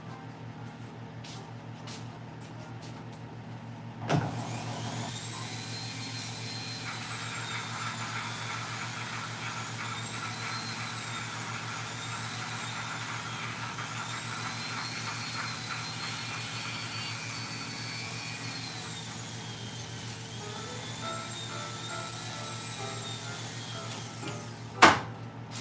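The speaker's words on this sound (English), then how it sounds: "use my Dremel tool with a little brush on it. I'm going to clean that up a little bit." Dremel rotary tool fitted with a small brush, cleaning out the pivot of a pair of scissors in a sharpening shop: a steady high whine with shifting pitch that runs for about twenty seconds, close and loud, with no talking over it.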